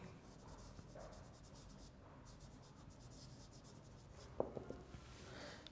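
Handwriting during a lecture, with a pen scratching in soft repeated strokes on a surface, faint and close, ending in a few sharper taps.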